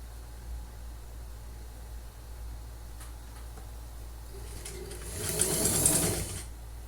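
A sewing machine stitches fabric for a sewing machine cover, a short burst of rapid whirring near the end after quiet handling sounds, close and without talk.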